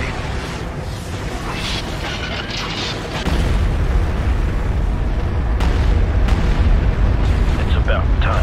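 Heavy artillery bombardment in the video game Star Wars: Empire at War, a dense, continuous rumble of booming explosions that swells louder partway through, with sharp bursts cracking over the low roar.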